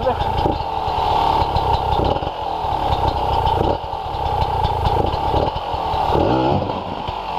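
Hard enduro motorcycle engine running on rough terrain, loud and close with choppy revs and throttle blips rising and falling over several seconds, a rattling edge throughout.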